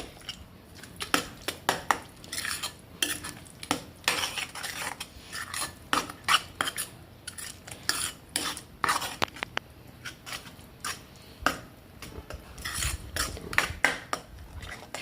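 A spoon stirs paneer cubes through spinach curry in a metal pan, making irregular clinks and scrapes that come in bursts with short pauses, close and fairly loud, and no one speaking.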